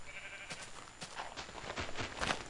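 Short, repeated bleats from a Minecraft sheep sound faintly and close together over a quiet game background, several brief calls in quick succession.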